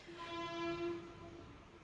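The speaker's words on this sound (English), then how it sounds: "How rude of the town to honk." A train-like horn honks in a town, one long sustained tone that swells and fades over about a second and a half, heard faintly at a distance with no talk.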